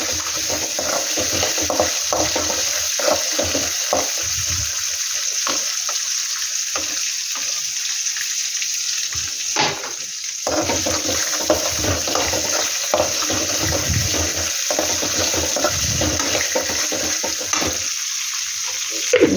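Peanut chutney ingredients frying in a pan: a steady sizzle with frequent clattering stirs and scrapes, close and fairly loud, no speech.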